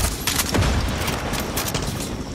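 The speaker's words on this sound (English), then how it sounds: "Where the fuck are they all shooting from?" Rapid enemy gunfire crackles through a Far Cry 6 firefight, steady and dense with bursts rising around a low boom, mid-distance and continuous with no clear voices.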